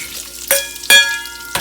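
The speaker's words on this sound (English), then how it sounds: "And in goes the sausage." Andouille sausage links dropped into a hot pan that already held shrimp, for a one-pan jambalaya, giving three sharp sizzling bursts that fade into a steady frying hiss, close and loud with nobody talking.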